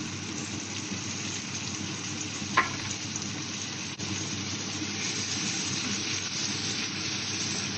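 Tomatoes sautéing in a pan for crab curry, a steady close sizzle with a single sharp clack partway through, and nobody speaking.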